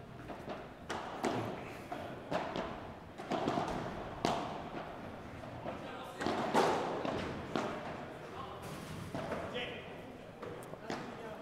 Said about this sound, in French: cette balle qui s'écrase sur la vitre